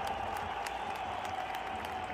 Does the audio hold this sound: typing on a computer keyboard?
no